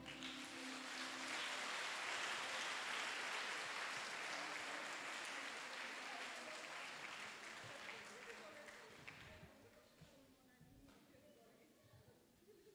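A church congregation at an evening mass for the sick applauds together, a dense wash of clapping that swells early and gradually thins out, with voices mixed underneath.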